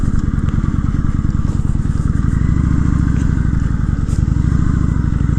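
Small gnats tick sharply against a helmet while riding a motorcycle, scattered taps over a loud, steady engine drone and wind roar.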